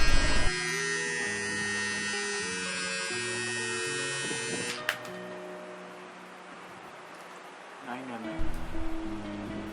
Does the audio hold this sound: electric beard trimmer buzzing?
yes